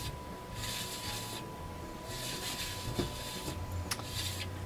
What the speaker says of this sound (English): I'm just going to dust this out